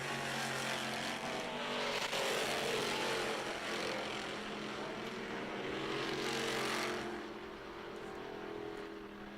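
Race cars from the Novice Sportsmen class on a hot lap at Mohawk Raceway, a steady loud engine roar that swells as cars pass, fades and builds again, with no talk over it.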